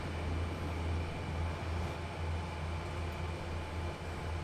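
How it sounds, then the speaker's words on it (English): Locomotive wheels slipping as a heavy train pushes downhill on the Clinchfield Railroad Fremont descent in Train Sim World 2, heard as a steady, loud low rumble and drone that continues throughout with no talking. "We're just wheel slipping."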